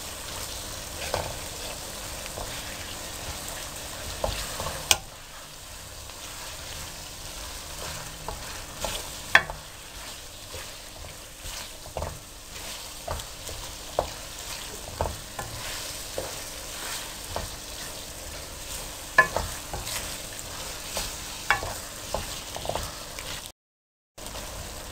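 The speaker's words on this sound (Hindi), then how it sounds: "आपने कम से कम भी 5 मिनट के लिए इसको अच्छी तरह से भून लेना है।" Minced meat (keema) frying in a pan, with a continuous close sizzle and regular sharp taps and scrapes of a spoon stirring, and no voices.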